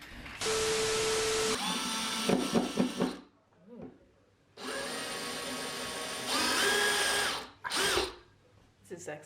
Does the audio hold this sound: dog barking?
no